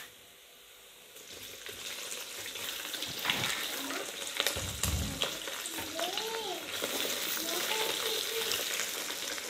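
Beef sizzles as it goes into browned onions in a pan for Hyderabadi beef tahari, a steady close frying hiss with a voice speaking over it partway through.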